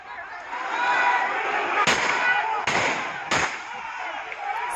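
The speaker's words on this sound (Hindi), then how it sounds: "साफ तौर पर इस वीडियो में पथराव के साथ साथ फायरिंग की आवाज भी सुनी जा सकती है" Gunfire and thrown stones during a clash at a court complex amid civic election nominations in Jalalabad, heard as three sharp loud cracks over a dense, steady crowd roar with shouting.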